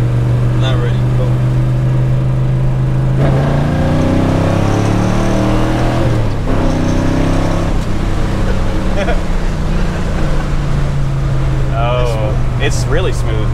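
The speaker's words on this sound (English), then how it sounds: "You're gonna hear the secondaries for both carbs open up" A 1961 Pontiac Catalina 421 with twin carburetors accelerating in second gear, its engine note climbing loudly as the secondaries open, with voices speaking over the roar inside the car.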